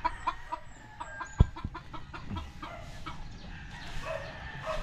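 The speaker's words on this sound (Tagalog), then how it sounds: "Ganyan kasi yung manok pagka teritoryo yan." A territorial chicken clucks in short, scattered bursts at close range outdoors, with a sharp knock partway through and faint background noise between the calls.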